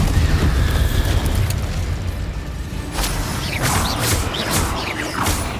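The Bombarda blasting spell explodes in the Hogwarts Legacy video game, a dense rumbling mix followed by several sharp bursting impacts in quick succession, loud and close.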